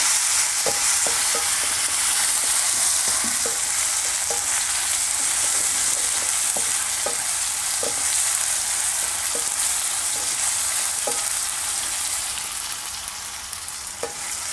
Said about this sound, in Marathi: तर ह्यामध्ये आपण घालूया टमॅटो टमॅटोसुद्धा आपल्याला चांगलं करून त्याने परतून घ्यायचं